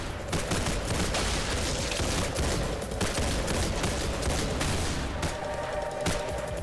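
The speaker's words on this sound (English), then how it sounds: "I have a second gun that fires the opposite of the way my current gun is firing" Rapid video-game gunfire from House of God, dense crackling bursts of shots firing continuously at close range, loud and unbroken, with no talking over it.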